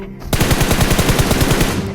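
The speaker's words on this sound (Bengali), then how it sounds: "লাস্ট এনিমিটা এখন ফায়ার দেয়।" Rapid automatic gunfire from an enemy in PUBG Mobile on the Livik map, a loud, dense burst of evenly spaced shots that runs for about a second and a half with no talk.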